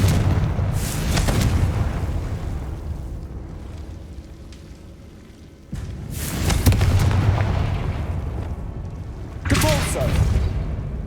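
Confringo blasting spell explosions in Hogwarts Legacy, several loud booming blasts with rumbling decay, spaced a few seconds apart, with voices in between.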